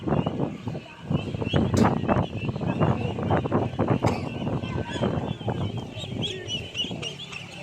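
A large flock of ducks, many of them feeding, gives a dense, continuous chorus of overlapping quacks and honks at close range, busy and unbroken throughout.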